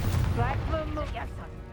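A Confringo blasting spell goes off in Hogwarts Legacy with a loud, close burst and a rumbling boom that trails away over a second or so, with bright magical tones ringing over the blast.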